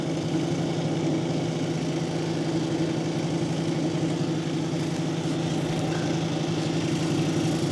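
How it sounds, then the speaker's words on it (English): A lapidary grinding wheel running steadily at 280 grit while polishing banded iron jasper and Lake Superior agate, giving a continuous mid-pitched motor hum with a constant grinding hiss throughout, close and unbroken, with no talk. "I'm gonna go ahead and start on the 280 grit on this one"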